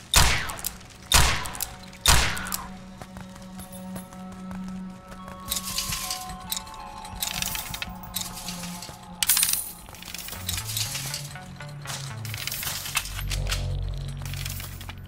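Ammo being picked up in the video game From Space gives sharp metallic clinks and coin-like jingles, several quick pickups at the start, then scattered clanks over distant gunfire and a low sci-fi hum.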